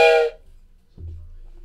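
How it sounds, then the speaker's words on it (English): A train whistle sound effect played during a football card break: one short, bright, tonal blast up front, then fading into a low rumble. "with another train whistle."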